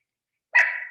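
A dog being looked after gives one close, sharp bark that trails off briefly, coming abruptly out of silence.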